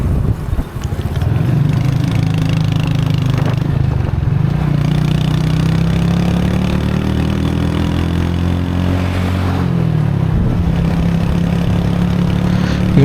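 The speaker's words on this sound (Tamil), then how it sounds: "நீங்கள் அழகாக இந்த பைக் சவுண்டை கேட்டே வாங்க, நல்லாயிருக்கும்." A motorcycle engine in Pattaya traffic hums steadily at mid pitch, rising and falling gently with throttle as it rides along, loud and close with no talk.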